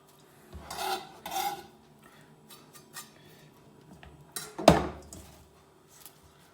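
Vegetables being cut for a vegan salad make a few scraping, rasping knife strokes on a board, then a sharp knock near the end, with quiet gaps in between.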